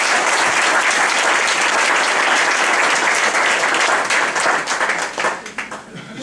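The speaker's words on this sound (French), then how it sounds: "Et nous voulons vraiment les acclamer." Sustained, loud applause from a church congregation at a mission inauguration, dense and continuous before thinning out toward the end, with a voice speaking over it.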